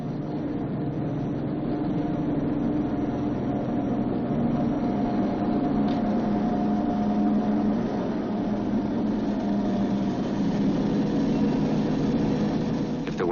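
The engines of a B-29 bomber roar during takeoff, a dense, sustained loud drone with a steady low hum and a broad noisy wash that holds evenly for several seconds.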